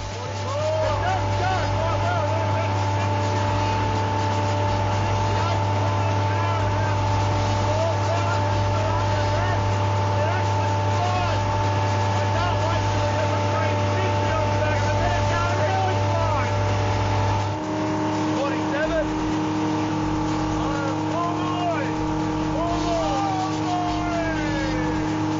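An old Chevy V8 powers a boat at speed, its engine holding a steady, loud drone with a slight shift in pitch partway through, while water and wind rush along the hull.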